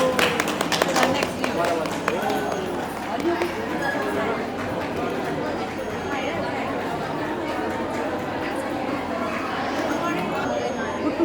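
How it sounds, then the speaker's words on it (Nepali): Wedding guests clap together, a steady mid-level patter of many hands throughout, with chatter and voices in the room around it. "सबैले थपडी बजाइदिउँ है"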